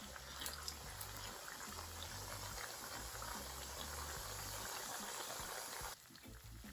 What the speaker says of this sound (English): now I'm gonna add my plantains back in my oil